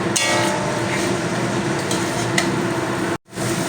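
Ground coriander, cumin and Kashmiri red chilli powder with a little water sautéed and stirred in a pan for restaurant-style doi katla, a steady close sizzle with scraping stirs, briefly cutting out near the end.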